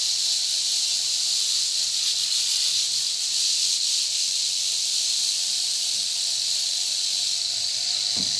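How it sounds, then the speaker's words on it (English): A rattlesnake buzzes its tail continuously, a loud, close, steady high-pitched hiss-like rattle sustained without pause for the whole stretch. "Love this rattlesnake so much."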